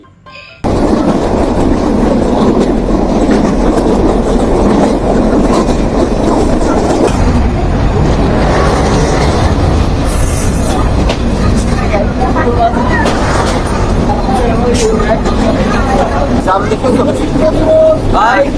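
Inside a carriage of the Rupsha Express in Bangladesh, the train rumbles loudly and steadily with rattling clatter once it gets going, while voices of passengers talk throughout.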